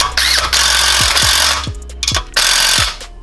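A bolt is hammered into the governor of a Murray go-kart engine, about six sharp metallic strikes in an uneven rhythm over a loud continuous whirring machine noise nearby.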